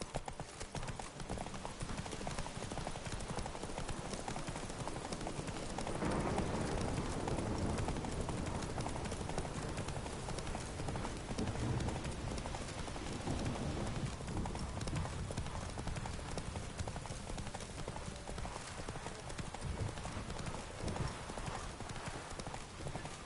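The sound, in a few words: horse Roach galloping hooves in The Witcher 3 video game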